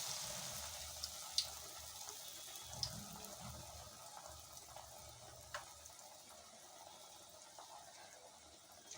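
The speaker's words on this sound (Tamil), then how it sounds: "இப்படி மாவில் போட்டு இப்படி எண்ணெயில் விட்டுடுங்க." Spinach bajji, battered palak leaves, frying in hot oil with a steady low crackle and occasional sharp pops, heard close with no voices.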